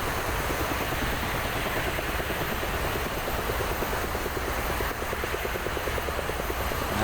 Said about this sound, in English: That's the Su-25.